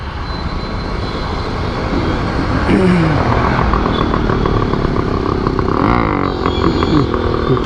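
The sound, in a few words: heavy road traffic heard while riding a motorcycle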